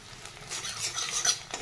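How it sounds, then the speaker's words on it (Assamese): Soaked dried fish fries in hot oil in a pan, giving a soft sizzle. Close-up scraping and stirring of a utensil sound over the sizzle, and no voices are heard. "সেইবাবে মই এয়া ভাজি লৈছোঁ, তেলতে খুব ধুনীয়াকৈ ভাজি লৈছোঁ"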